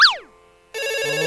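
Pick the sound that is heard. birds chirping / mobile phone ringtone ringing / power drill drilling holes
mobile phone ringtone ringing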